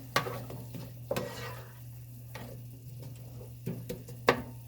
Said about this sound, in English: Let's mix this up a little bit.